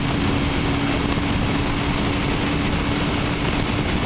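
A 2011 Kawasaki Ninja 250R engine runs steadily with a continuous, even drone and a faint tonal hum, heard alone without talk.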